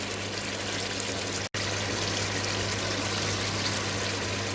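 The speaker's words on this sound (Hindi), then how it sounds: "और फिर हम इसके अंदर पानी ऐड करेंगे" Water poured into a pot of browned mutton and masala for pulao, a steady broad rushing stream with one momentary break, close and continuous.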